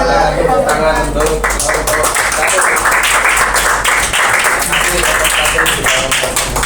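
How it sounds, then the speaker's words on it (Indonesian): A classroom audience claps after a group presentation, quick scattered handclaps running through the whole stretch, mixed with voices talking over them. "Silakan tepuk tangan untuk"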